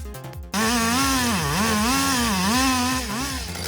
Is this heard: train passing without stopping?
no